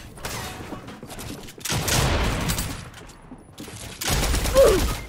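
Gunfire in a Fortnite match comes in bursts of rapid automatic shots, with three or four loud volleys separated by brief lulls.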